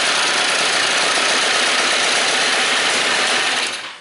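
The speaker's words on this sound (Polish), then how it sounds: "Zagrzewamy taki silnik do jakiejś tam temperatury powiedzmy 70 stopni na wolnych obrotach" A small Derbi Senda scooter engine idles steadily with a fast, buzzing rattle while warming up, close and loud, then fades out at the very end.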